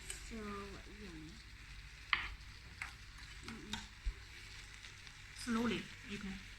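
Pork with green pepper sizzles in a pan while being stir-fried, a steady frying hiss broken by scraping stirs and utensil clacks, with people talking over it.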